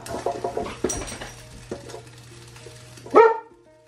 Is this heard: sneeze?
no